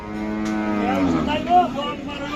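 A cow at the Hazratpur cattle market during the 2024 Qurbani season gives one long, loud, drawn-out moo close by, filling the whole moment with little else around it.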